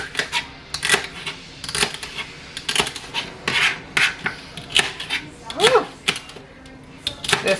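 A knife chops fresh celery on a cutting board in a home kitchen, giving a quick irregular run of crisp, close cuts and crunches with short pauses between strokes.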